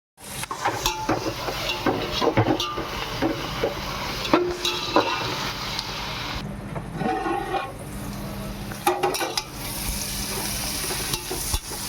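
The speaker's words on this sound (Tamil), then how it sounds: "வெங்காயத்தை போட்டோம். நல்லா பொன்னிறமாக சிவக்க வதக்கணும்." Onions sautéing with salt in a pan for seeraga samba chicken biryani, a loud continuous sizzle broken by repeated stirring scrapes and clatter of a spoon against the pan.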